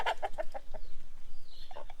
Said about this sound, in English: Y'all hear that? And that's my geese